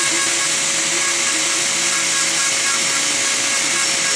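A rotary tool spins steadily at high speed with a constant whine and hiss as its bit shapes and touches up a wooden smoking pipe bowl, running without pause close by.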